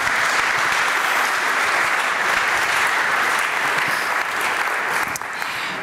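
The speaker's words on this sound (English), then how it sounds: "Big applause." An audience at an engineering and technology conference applauds steadily, a dense, loud wash of clapping from many hands that holds for several seconds with no speech over it.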